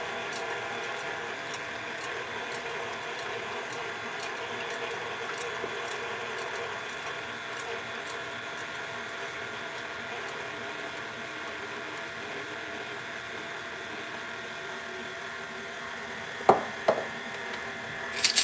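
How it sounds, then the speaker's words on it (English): Stand mixer running on low while mixing royal icing, giving a steady continuous mechanical whir with faint rhythmic ticking, moderately loud and unchanging, with a couple of sharp knocks near the end and no talking. "I'm just gonna start the mixer. Starting on low, I'm gonna put half of the sugar in here."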